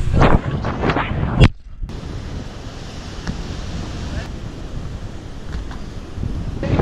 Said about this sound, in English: The waves splash up on the rocks and it's really fun